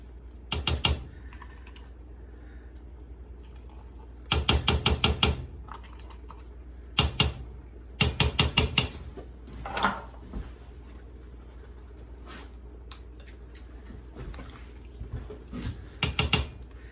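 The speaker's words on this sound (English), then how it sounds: "This can didn't want to open very well, but we got it" A large number 10 can being opened with a manual can opener, in short bursts of rapid metallic clicking and ratcheting separated by pauses, close up in a quiet kitchen.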